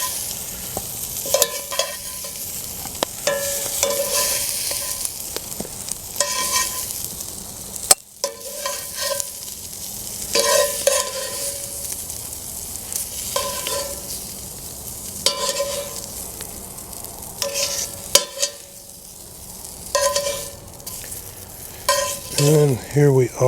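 Pan-roasted Brussels sprouts scraped and lifted from a hot pan over a campfire, with continuous close sizzling and repeated metal-utensil scrapes and clinks, loud and without talk.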